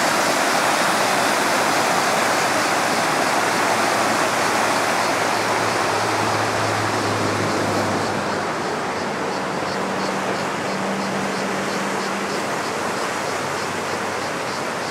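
A mountain river near Lake Sevan in Armenia rushes in full flood, a loud, dense, continuous roar of water close by, with a faint low hum in the background.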